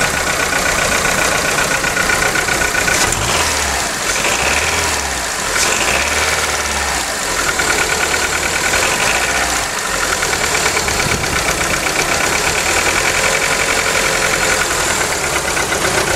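A 2003 VW Golf 1.4 16v petrol engine with a failing ignition coil runs loud and close as it is revved gently, giving a steady, rough drone with an uneven, knocking pulse and no talk.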